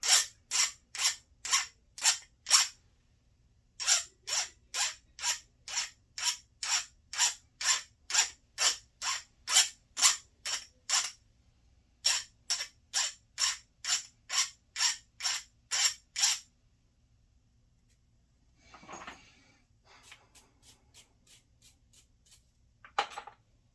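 Damaged threads on a lathe part being cleaned up by hand, a close, crisp rasping scrape repeated in regular strokes in three runs, followed by a few faint metallic clicks, with no talk.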